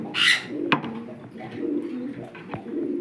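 Domestic pigeon cooing up close in a bird box, a low soft repeated coo over a steady murmur, with a brief higher chirp near the start and faint clicks.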